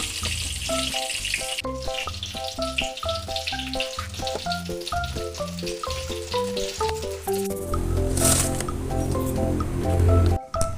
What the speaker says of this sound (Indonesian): Lanjut kita goreng sisanya Bunda sampai selesai